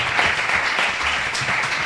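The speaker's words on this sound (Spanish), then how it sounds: "les deis por favor un fuerte aplauso a Pablo, a Ángel, Juan Antonio y a José." An audience at a Spanish talk on AI and creativity applauds, a dense, continuous wash of clapping from many hands, steady and fairly loud throughout the short burst.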